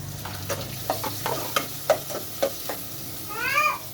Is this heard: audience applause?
no